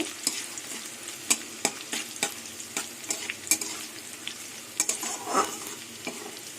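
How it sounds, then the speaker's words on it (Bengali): Crushed garlic frying and being stirred in a pan for lentil dal with Malabar spinach, with steady close sizzling and repeated sharp scraping strokes of the spoon, no voices. "এবার থেতো করা রসুন দিয়ে দেবো রসুনের কাঁচা গন্ধটা চলে যাওয়া অবধি নাড়ব"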